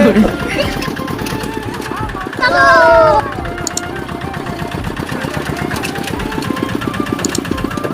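A vehicle engine drones steadily from inside while it is driven home through forest after a picnic, a close mid-pitched rumble running the whole time with a brief whining tone partway and people talking over it.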